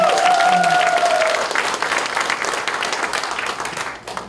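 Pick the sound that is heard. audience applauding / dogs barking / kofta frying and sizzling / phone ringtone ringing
audience applauding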